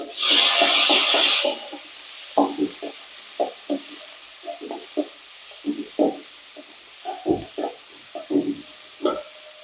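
Chopped onion and green chili sautéing in a pan, opening with a short loud hiss as they hit the oil, then a quieter steady sizzle broken by repeated close stirring scrapes.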